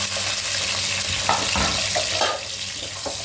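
Chopped medium onions fry loudly in about half a cup of oil in a pot, a dense, continuous sizzle with scraping stirs and brief clatters throughout.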